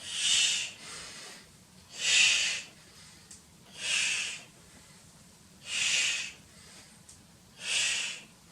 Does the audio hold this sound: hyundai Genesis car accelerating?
no